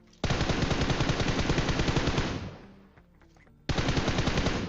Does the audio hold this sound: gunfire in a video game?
yes